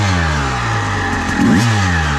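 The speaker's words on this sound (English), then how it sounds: "The motor sounds great." A motorcycle engine fitted with a Panthera Motorsports electric start runs steadily after a starter repair, a loud continuous drone with a brief rise in revs midway, with no talking over it.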